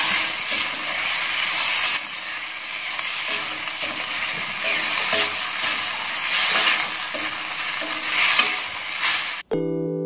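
Beef and broccoli stir-fry being stirred in a pan with sauce, a continuous loud sizzle broken by repeated scraping strokes of a spatula, close up with no talk, cutting off abruptly at the end.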